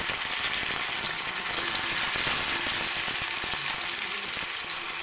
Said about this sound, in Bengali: তেলটা গরম হয়ে গিয়েছে, আমি মাছ দিয়ে দিচ্ছি আস্তে আস্তে।